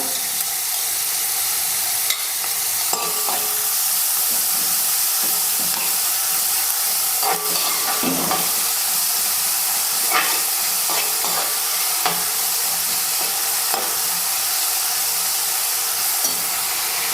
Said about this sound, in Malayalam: ഇഞ്ചി വെളുത്തുള്ളി ചതച്ചിട്ട് കൊടുക്കാം